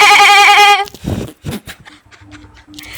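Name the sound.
person imitating a goat bleat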